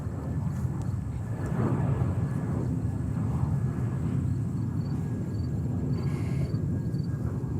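A jet airliner departing Kennedy Airport in New York roars steadily at a distance, a continuous low rumbling engine drone that holds at an even, moderate level throughout, with no talk over it.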